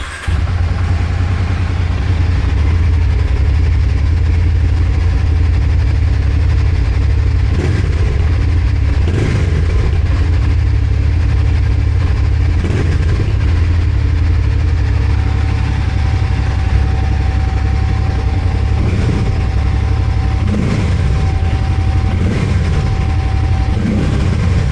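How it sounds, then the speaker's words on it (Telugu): A Harley-Davidson X440 motorcycle runs with a loud, steady low exhaust rumble, broken by a few brief throttle blips, and no one talks over it. "And one more time I will show you the exhaust note."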